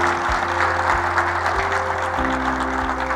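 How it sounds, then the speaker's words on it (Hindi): Audience at a corporate Jalsa 2024 gathering applauding loudly, a dense continuous wash of clapping over low music with no talk. "आप सब लोगों के लिए एक बार जोरदार तालियां हो जाए।"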